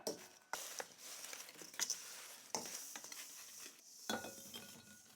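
Buttered bread pieces tossed with cinnamon sugar for no-knead tangzhong brioche, giving soft repeated stirring scrapes and light clinks of utensil against bowl, close and fairly quiet, with no talk.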